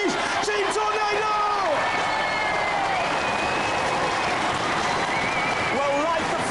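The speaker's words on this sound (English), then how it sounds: "One more last round of applause for the UK champions, please." A Robot Wars studio audience applauds the UK champions Team Tornado, a dense continuous roar of clapping and cheering from start to finish, with an announcer talking over it.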